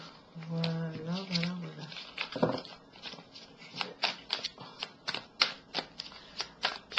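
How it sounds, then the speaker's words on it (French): Tarot cards being shuffled by hand, a steady riffling patter of repeated soft slaps growing more rhythmic, heard close, with someone speaking at the start. "Bien battre les cartes de nouveau."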